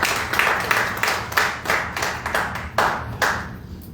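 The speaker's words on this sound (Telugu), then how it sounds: "మనందరం కూడా చప్పట్లు కొడుతూ సేవకుని ఆహ్వానించుకుందాం" A congregation at a Wednesday church worship service claps to welcome the preacher: about eight loud, rhythmic claps in steady succession, close to the microphone, with no talking.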